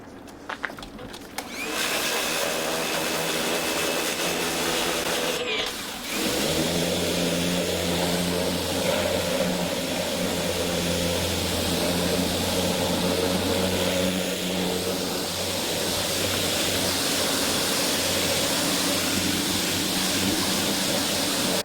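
Water spraying onto car wheels to rinse away a brake dust cleaner, a steady loud rushing hiss that carries on without a break for about twenty seconds, with a brief clatter near the start and no talking.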